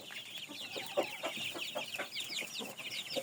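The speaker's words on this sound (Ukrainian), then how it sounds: "На задньому фоні курочка така." A hen clucks repeatedly in the background among a flock of young fluffy, bearded, crested and feather-footed chickens, with a run of short chirps and clucks at a steady, busy rhythm.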